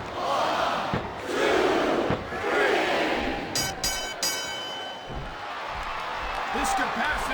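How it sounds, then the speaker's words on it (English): Capacity arena crowd in the video game WWE SmackDown vs Raw 2007, a loud, swelling roar and cheering that rises and falls, with sharp clattering impacts midway. "This capacity crowd is certainly getting its money's worth here tonight."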